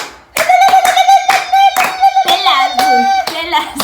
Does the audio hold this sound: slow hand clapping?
yes